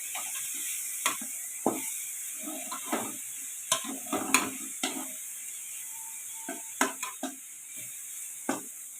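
Grated coconut poriyal frying in a pan, a soft sizzle beneath repeated sharp scrapes and taps of a spatula stirring at an irregular pace, close and clear with no voices.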